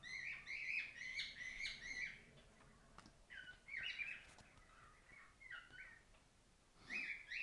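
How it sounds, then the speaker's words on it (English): A pet bird chirps and tweets in bright, repeated bursts with short pauses, fairly faint and with no talking. "I guess he is a pretty bird."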